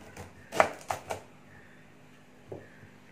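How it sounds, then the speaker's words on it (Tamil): A knife cutting the tip and stem off a raw banana on a board, a few sharp close taps in quick succession followed by one more chop after a pause, quiet otherwise. "வாழைக்காயை இந்த நுனியை கட் பண்ணிடுங்க."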